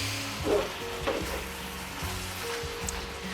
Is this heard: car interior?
no